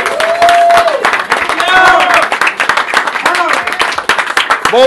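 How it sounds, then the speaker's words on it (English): At an art battle event, an audience claps and cheers for both artists in loud, dense applause that carries through the whole stretch, with whoops and voices rising over it. "So let's give them a round of applause"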